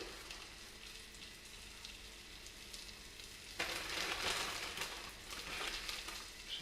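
Panko and parmesan crumbed fish frying in butter in a fry pan, a steady close sizzle that swells louder partway through as more pieces go in.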